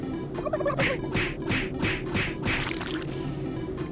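Cartoonish turkeys gobble in the Doom 3 kitchen mini-game Super Turbo Turkey Puncher 3, a string of about six rapid, warbling gobbles in quick succession, loud and with no talk over them.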